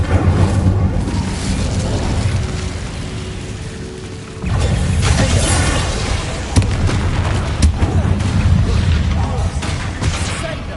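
A fire spell cast in Hogwarts Legacy, a loud roaring burst of flame that swells partway through, layered with booming game effects and background music.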